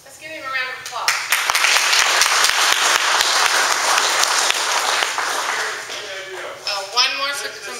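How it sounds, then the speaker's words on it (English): A lecture audience breaks into steady, full applause after a talk, swelling quickly and holding for several seconds before fading as a voice starts speaking again. "Let's give him a round of applause."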